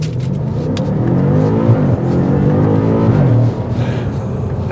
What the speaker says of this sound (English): That active exhaust note